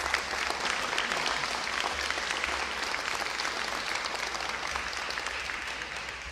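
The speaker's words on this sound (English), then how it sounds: "Can we give him another round of applause?" An audience applauds at a state Medicaid expansion event, with steady, dense clapping from a crowd that continues at an even level and tapers slightly toward the end.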